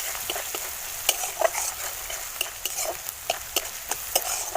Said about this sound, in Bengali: লঙ্কাটাকে ভালো করে তেলের উপরে মেরে নেবো